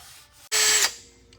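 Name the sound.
wire brush spinning on a drill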